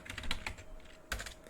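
Keystrokes on a computer keyboard while JavaScript code is typed, with quick clusters of clicks at the start and another burst near the end of a short, close-miked stretch.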